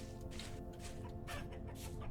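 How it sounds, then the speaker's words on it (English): Chickens in the survival game Vintage Story cluck faintly in the distance, a quiet scatter of repeated clucks over a soft, constant ambient bed. "Oh, chickens. I hear chickens."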